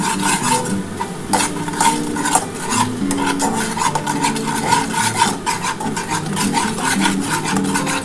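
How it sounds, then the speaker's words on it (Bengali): Spice paste (masala) with a little sugar being sautéed and stirred for egg poach curry, a loud continuous scraping and rubbing of a spoon against the pan over a soft sizzle, close and with no talking. "এবার এই মশলাটা খুব ভালো করে কষিয়ে নিতে হবে।"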